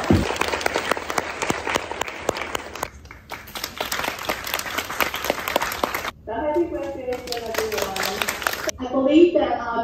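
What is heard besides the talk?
graduation audience applause for the staff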